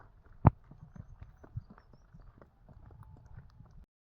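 A freed bullock walks home over open ground, its hooves giving soft, uneven clopping steps with one sharper thud near the start, all fairly quiet and close.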